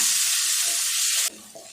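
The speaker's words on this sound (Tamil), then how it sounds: "பொடியாக நறுக்கின ஒரு பெரிய வெங்காயம் கொஞ்சமாக கருவேப்பிலை எல்லாத்தையும் சேர்த்துட்டு நல்லா வதக்கிடலாம்" Chopped onion and curry leaves frying in hot oil, a loud, steady sizzle and hiss close by that cuts off abruptly to a quiet stir near the end.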